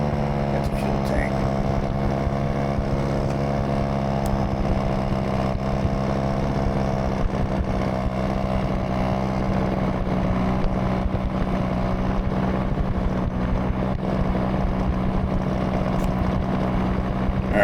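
Paramotor engine in flight, a steady droning buzz with a constant pitch that holds throughout at moderate distance, with no pause in the motor.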